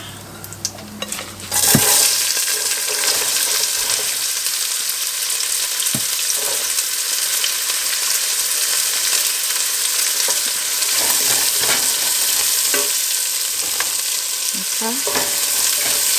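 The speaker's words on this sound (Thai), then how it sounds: "เอาหอมมะลงผัดนี่ค่ะ" Steady loud sizzling of onions stir-frying in a pan, with occasional scrapes and clinks of a utensil stirring, no talking.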